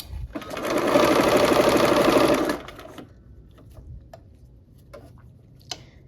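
A sewing machine stitches quilt fabric in a steady, fast run of about two seconds, then stops, leaving faint ticks and small handling clicks as the fabric is adjusted.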